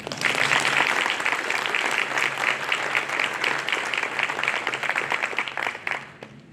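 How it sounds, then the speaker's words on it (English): A graduation reception audience claps for a student speaker, a dense and fairly loud round of applause that holds steady for several seconds before tapering off at the end, with faint crowd murmur beneath. "I think it deserves another round of applause."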